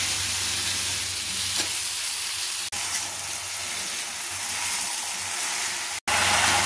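Malabar spinach hits hot oil in a frying pan with a loud, dense, continuous sizzle close by. Two sharp momentary breaks interrupt the hiss, and it then carries on at full strength.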